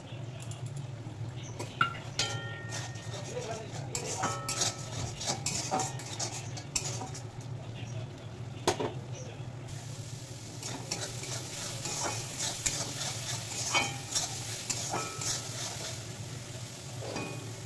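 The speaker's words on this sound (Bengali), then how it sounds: "এবার দিয়ে দেবো গুঁড়ো মশলা" Ground spices fry in oil in a pan while a utensil stirs them, a steady close sizzle under repeated scraping and clinking of metal against the pan, with no talking.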